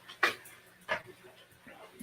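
A dog shuffles around nearby, with two short breathy bursts and a softer third, like quick panting or snuffling, in a quiet room.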